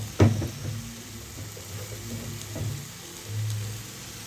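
Cumin and coriander powder sizzle in a hot tempering pan outdoors, a steady, fairly quiet crackling fry with a sharp clatter at the start and soft stirring scrapes throughout.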